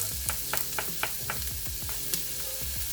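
Onions sauté in warm oil in a pan, a continuous close sizzle with rhythmic stirring scrapes and soft taps throughout.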